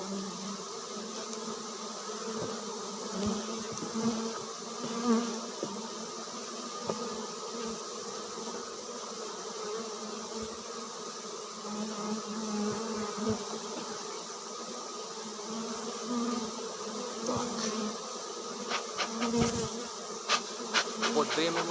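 A huge honeybee swarm at a hive, a dense, steady buzzing drone filling the whole stretch with occasional louder bees passing close, no talk over it.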